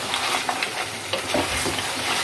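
Tomato going into beef that has been fried down until its fat separates, giving a loud close sizzle broken by quick stirring scrapes and small clatters, with no voice heard.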